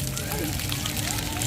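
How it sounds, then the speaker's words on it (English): Water splashing and sloshing at a Six Flags New England water ride in Massachusetts, a steady wet wash with children's voices chattering over it. "It's water."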